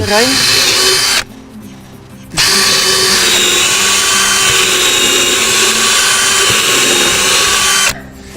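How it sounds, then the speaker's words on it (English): A power drill boring holes into wood, a loud steady whine that cuts out briefly after a second, then runs long and continuous before stopping near the end. "We drill various holes in the wood."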